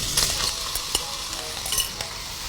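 Bacon frying in a hot wok for a pork stir fry gives a steady, close sizzle with crackling pops and a few sharp spatter bursts throughout.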